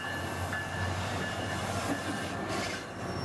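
A train at a downtown railway station in Orlando, Florida, rumbling steadily with rail noise, faint wheel squeal and clattering, heard continuously and fairly close, without voices.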